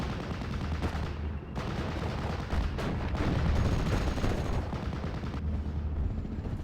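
Light tank and other gunfire in a World War II combat video game, repeated bursts and booming shots rattling continuously at moderate level with no talking.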